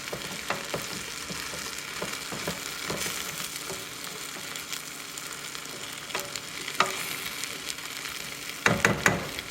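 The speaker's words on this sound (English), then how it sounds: "We have a 1/4 cup of flour and we're just going to shake that in and give it a stir" Flour shaken over vegetables for a turkey stew and stirred in a pot, with a steady sizzle and frying crackle plus scattered scraping stirs and a few louder knocks near the end.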